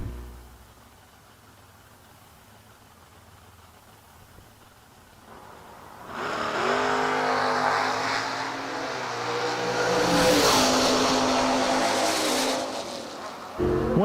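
Drag racing cars launch side by side at a Six Shooter Showdown drag strip, a low rumble building into loud, sustained engine roar with tire screech as they accelerate away, peaking near the end before cutting off.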